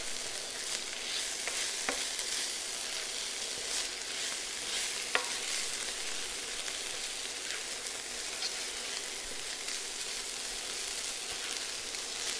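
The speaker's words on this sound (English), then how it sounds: "You don't want to burn the garlic and the ginger. So just make sure that it's on a nice, steady, kind of medium to low heat. And just stir those in." Garlic and ginger sizzle steadily in a pan over medium-low heat for a korma, a close, continuous crackling fry broken by occasional faint scrapes of stirring, with no voices.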